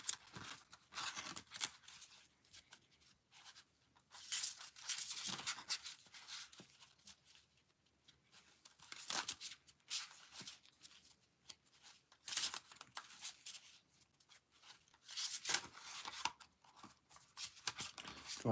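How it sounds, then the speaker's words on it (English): Close, quiet tarot cards being shuffled by hand, with crisp riffling and sliding card sounds in irregular bursts separated by brief pauses. "I'm still shuffling my cards."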